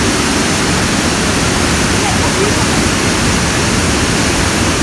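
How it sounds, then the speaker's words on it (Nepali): Water released from a full reservoir rushes out in a loud, steady roar like a waterfall, with no break across the whole stretch. "पानी फुल रहेछ त्यहाँ चाहिँ अब छोड्दैछ"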